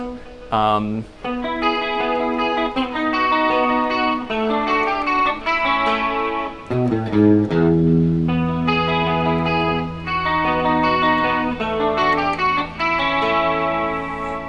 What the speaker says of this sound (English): play it on a guitar with a lot of chorus and delay